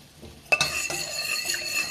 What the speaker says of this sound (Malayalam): തീ ലോയിലോട്ടാക്കിക്കൊണ്ട് ഒന്നുകൂടെ ഒന്ന് തിളച്ചോട്ടെ